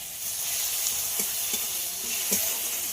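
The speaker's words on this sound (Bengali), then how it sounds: "আদা রসুনের পেস্টটা দিয়ে খুব ভালো করে কষিয়ে নিতে হবে" Ginger-garlic paste cooks down with tomato and onion in a pan, giving a soft, even sizzle with a few light scraping taps of a spoon, moderately close and fairly quiet.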